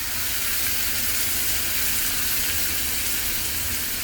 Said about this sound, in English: We are going to deglaze the pan with our truffle mushroom cream and add in our lobster